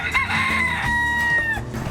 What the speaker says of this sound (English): there are tons of wild chickens and roosters roaming all around the city